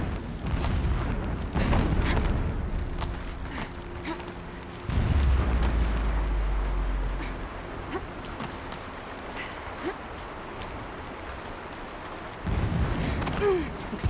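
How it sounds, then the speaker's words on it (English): Explosions in the Horizon Zero Dawn video game boom in the distance, several deep muffled blasts with low rumbling spaced across the clip amid quieter ambient game sound. "Explosions in the distance."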